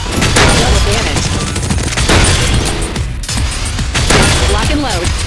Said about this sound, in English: Your weapons use ammo and will overheat under continuous fire.